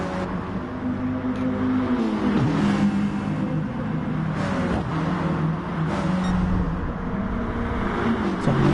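Two Mitsubishi GT2 racing cars in the video game GT Sport run nose to tail through a corner, their engines buzzing loud and close with rising and falling revs and quick gear-shift dips, layered over other cars' engines.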